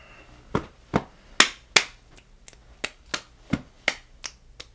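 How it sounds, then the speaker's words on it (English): Eleven sharp hand claps in a brisk, uneven beat performed as the eagle beat clapping rhythm, close and loud against a quiet room, with no talking. "Can you do the eagle beat for us? The clapping?"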